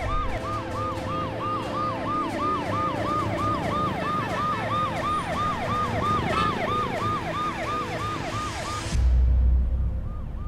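A police siren wails in a fast, repeating up-and-down pattern, loud and close with road noise beneath, then cuts off abruptly near the end.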